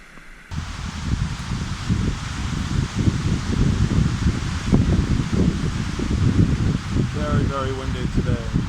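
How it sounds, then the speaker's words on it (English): Strong outdoor wind buffets the microphone in dense, continuous gusts after a brief quiet start, a rushing roar that swells and eases with a faint rustle of leaves. "Very windy today."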